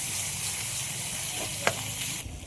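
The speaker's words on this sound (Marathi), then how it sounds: "आता आपण जे लसण अद्रक संबार जिरं घेतलं होतं ते पेस्ट टाकून घेऊ आणि ते मस्त परतून घेऊ." Garlic, ginger and cumin paste sautéing in oil with browned onion gives a steady, close frying sizzle, with a brief sharp clink or scrape near the middle and a slight drop in the hiss toward the end.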